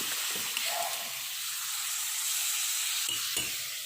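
Cabbage dal kootu with ground coconut stirred in a pan, giving a gentle, steady bubbling hiss with a few spoon scrapes, close and moderately quiet throughout.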